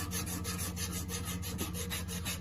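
Sandpaper rubs back and forth on the shaft of a blower motor, making a steady, close rasping scrape in quick, even strokes with no talking.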